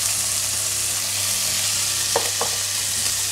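Onion and tomato frying in a pan, with garlic going in for a vegetarian vegetable pasta, give a steady close sizzle that keeps going throughout, broken briefly by a couple of short clinks of a utensil stirring.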